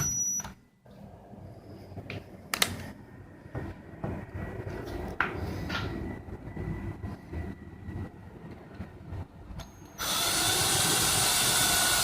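A power drill with a 5/16 inch bit bores final holes in a Dodge Charger R/T trunk lid for a Hellcat spoiler, giving intermittent whirring bursts and rattles, then a loud continuous drilling run at the end.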